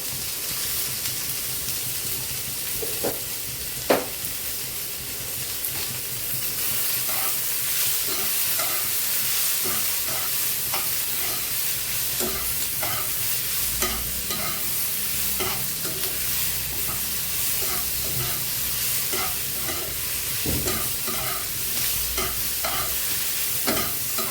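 Potatoes and onions with turmeric fry and sizzle in a pan, a steady hiss broken by repeated scraping stirs of a spatula, close and alone.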